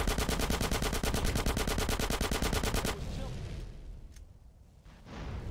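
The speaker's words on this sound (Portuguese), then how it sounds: "Eu atirei na cabeça do cara." Gunfire in GTA San Andreas Remastered: a rapid, loud burst of automatic shots for about three seconds, then a quieter game ambience with a faint voice.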